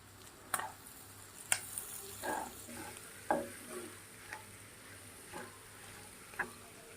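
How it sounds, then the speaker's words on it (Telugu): Mutton boti pieces coated in chili powder, coriander powder, cumin powder and garam masala fry in a pan with a quiet, steady sizzle, broken by about eight distinct scraping strokes of stirring. "ముక్కలు పట్టిలా బాగా కలుపుకొని బాగా వేగించుకోవాలి"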